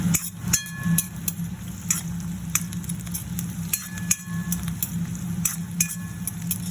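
Onions frying to golden brown for a home-style chicken curry, a steady crackling sizzle broken by repeated scrapes and clinks of a spoon stirring against the pan.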